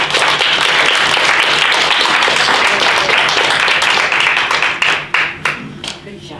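An audience at a senior center writers' reading applauds loudly and steadily after a reader finishes, the dense clapping thinning into a few scattered claps near the end.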